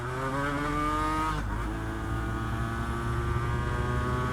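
A 250cc two-stroke V-twin sport motorcycle is ridden, its engine giving a loud, buzzing, harmonic-rich drone that dips briefly as the pitch shifts and then holds steady, close to the rider.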